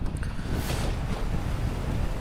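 Strong mountain wind roars against a tent on Mount Ciremai, a continuous loud rushing gust with flapping fabric noise and no voices.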